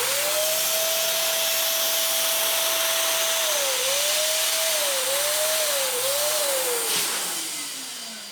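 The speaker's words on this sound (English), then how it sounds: "So now we're going to inflate the Belbal" An electric inflator blowing up a Belbal 14-inch crystal balloon, a loud continuous motor whine close by that steadies, dips several times as the airflow changes, then fades as it shuts off.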